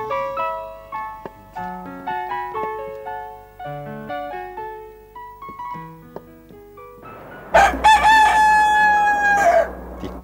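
A rooster crows loudly once near the end, a long strained call following a stretch of soft tinkling musical tones.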